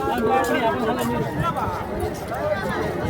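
Dense crowd chatter fills the riverside bathing area at Sangam in Prayagraj, with many overlapping voices close by and a steady babble of a large gathering.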